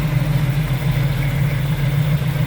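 A 1972 Chevrolet Nova muscle car with exhaust headers idles close by, giving a steady, deep, even rumble that holds throughout with no revving and no voices.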